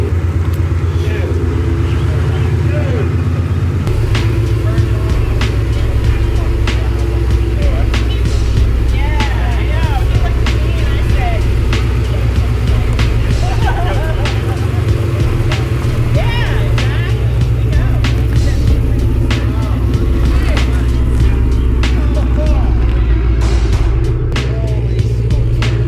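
A Ford Mustang engine warming up at idle, a loud, steady, close low rumble that holds throughout with slight fluctuations, while people talk nearby.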